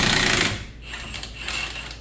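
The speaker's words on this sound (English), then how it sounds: "even my high torque impact was struggling taking that off" A high-torque impact wrench with a 19mm socket strains on the lower strut bolts of a 2005–2009 Hyundai Tucson, giving a loud, harsh rattling hammer burst that cuts off into lower mechanical noise.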